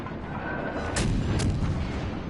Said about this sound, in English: He's got 2 guns on the enemy, so he might as well fire